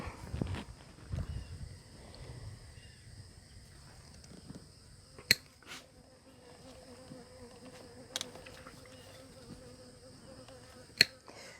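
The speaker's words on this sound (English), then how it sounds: "you can hear that bee there. That's one of our bees making their appearance here." A bee buzzes in faint, drifting passes near a STIHL FS 90R weed eater outdoors, with soft handling rustles and a few sharp clicks, quiet and close.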